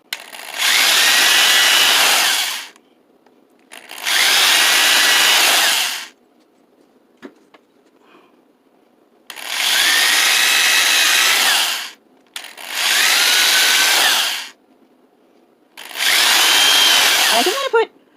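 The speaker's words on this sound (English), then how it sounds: "Now I'm going to have to drill through it." A power drill drilling through rubber whirs in five loud bursts of a few seconds each, separated by short quiet pauses.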